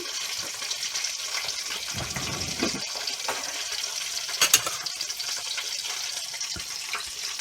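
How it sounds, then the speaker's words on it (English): A steady sizzling hiss of chicken pakoras frying in a pan runs throughout, with a few soft clinks and scrapes. "I'm just going to be frying them until they're cooked through"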